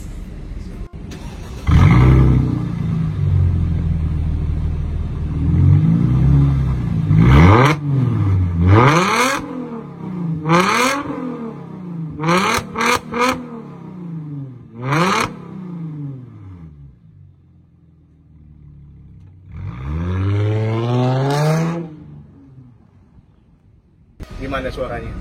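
Mercedes-Benz CLS350 W219 with a genuine AMG catback exhaust, revved repeatedly in short bursts with rising and falling engine notes, loud and close, the revs separated by pauses and ending with a longer rev.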